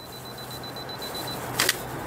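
A camera on a two-second self-timer gives a rapid series of faint, high, evenly spaced beeps, then after a short pause a single crisp shutter click, in a quiet room.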